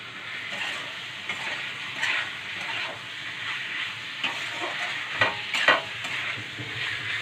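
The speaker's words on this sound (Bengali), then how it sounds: "ভালো করে কষিয়ে নেব।" Meat, goat liver and offal, is stir-fried kosha style in a hot pan, a continuous hiss and sizzle with intermittent scraping and stirring strokes of a spatula, moderately close and without speech.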